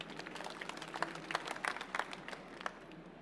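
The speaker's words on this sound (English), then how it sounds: "Let's give Sean a big round of applause" Light applause from a small audience at a public speaking session, a steady patter of hand claps lasting a few seconds, moderately distant with no talk over it.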